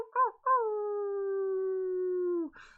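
A human voice imitates a wolf howl: a short yelping start, then one long sustained, slightly falling howl held for about two seconds, clear and close, with no talk over it.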